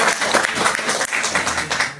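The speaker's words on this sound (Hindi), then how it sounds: "तालियों से आपका हार्दिक स्वागत।" Applause at a press conference in Gonda welcoming Mukesh Singh Chauhan, a guest who contested an assembly election: a dense burst of many hands clapping, steady and fairly loud for the full length, with no talk over it.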